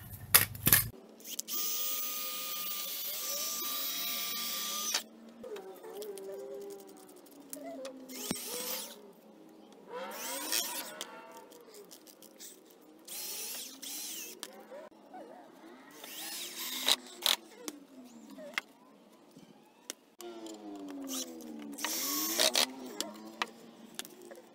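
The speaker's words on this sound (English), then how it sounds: "I'm gonna have to finish this job with a little jigsaw" Small handheld jigsaw cutting wood for a homemade drive-in movie screen, heard as repeated bursts of buzzing cutting with short pauses between runs, fairly close and with no talk.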